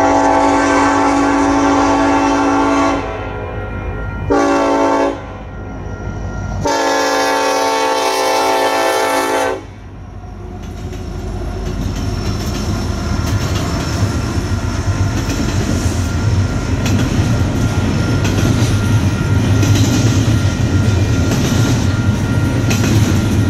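A Union Pacific freight train passes at roughly 3.5 mph past a trackside detector. Loud horn blasts open the scene, broken by short gaps, then give way to a steady, close rumble and clatter of rolling cars.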